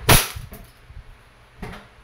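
An E&C airsoft Glock 17 Gen 5 pistol fires a sharp, close snap, followed by a faint tick and a second softer shot about a second and a half later.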